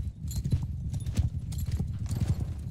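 Horse hooves clip-clopping in the video game Bannerlord, a fast, continuous trot of close, thudding beats that keeps going without break.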